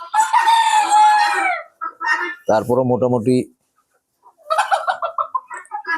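Chickens on a straw-and-bran floor in a small hen house cluck and squawk in loud bursts, with a brief man's remark between the calls.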